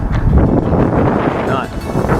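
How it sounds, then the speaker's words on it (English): Strong outdoor wind buffeting the microphone, a loud continuous low rumble with gusty swells, with no clear voice over it. "I know the wind's probably making a lot of noise."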